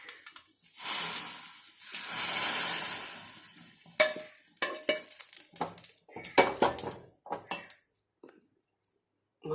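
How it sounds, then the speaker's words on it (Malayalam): Hot oil sizzles loudly as mustard seeds hit the pan, followed by a series of sharp pops and crackles with spoon stirring against the pan. "നമുക്കിനി കടുക് വറക്കാം"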